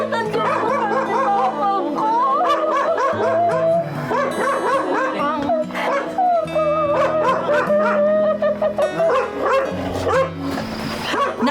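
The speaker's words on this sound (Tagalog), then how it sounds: "Nakikiagaw eksena man ang mga aso sa labas" Dogs outside a house bark, yip and howl almost without pause, overlapping in a loud, close chorus with whimpering cries mixed in.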